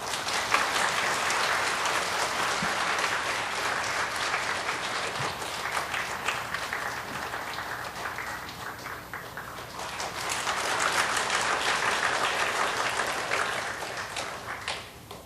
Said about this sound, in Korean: 우리 크게 박수로 인사를 대신하도록 하겠습니다